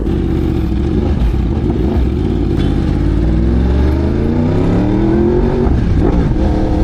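A Yamaha R1M sport motorcycle engine revs hard and close, the pitch climbing in long sweeps with a steady high-revving roar throughout, no talk over it.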